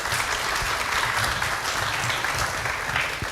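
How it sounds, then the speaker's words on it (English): An audience applauds a professor after a lecture on spina bifida, a full, even roll of clapping from a sizable room that carries on steadily throughout, with no speech. "Please give a round of applause for Prof."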